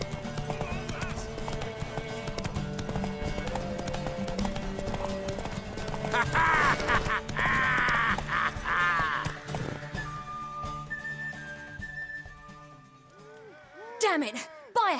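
Horse hooves clip-clop at a gallop through a Witcher 3 game scene, with a whinny near the end, loud and close, layered under game music and characters talking.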